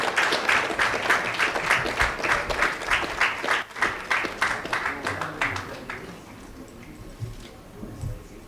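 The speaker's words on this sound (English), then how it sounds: "A round of applause as the official party come up." Applause and clapping from an audience greeting an official party at a trade organisation launch event in Ghana, a steady crowd of hands for about six seconds that fades to scattered claps with murmuring voices underneath.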